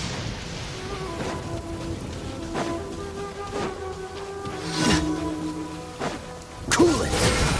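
Steady rain falls during a Genshin Impact battle, a soft continuous hiss under repeated whooshing and thumping combat hits and tonal game effects.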